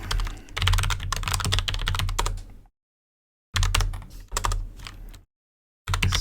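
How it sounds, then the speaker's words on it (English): Fast, steady clatter of typing on a computer keyboard comes in close bursts, with two brief pauses of silence between runs of keystrokes. "And we're going to type it."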